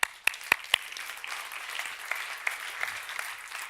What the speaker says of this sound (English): Please join me in a warm round of applause for Professor Drezner, please.